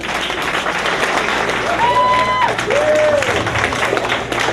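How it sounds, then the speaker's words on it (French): An audience at a community festival claps in a continuous broad round of applause, with a faint whistle-like tone rising and falling over the crowd midway. "ça mérite un applaudissement de notre part"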